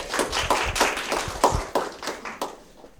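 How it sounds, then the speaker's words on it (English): An audience at a webinar-series event applauds to welcome a speaker: a steady round of clapping from a modest group that carries on through the clip and thins toward the end, with no talking. "Round of applause."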